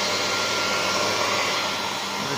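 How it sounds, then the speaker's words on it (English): An air dryer blows a steady, loud, broadband rush of air while drying a queen guard after cleaning, continuous throughout with no talking. "It's amazing what an air dryer can do."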